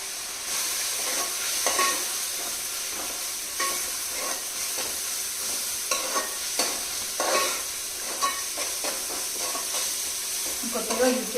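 Onion and ginger paste with turmeric frying in a pan, giving a continuous bright sizzle broken by frequent scraping stirs, close and fairly loud.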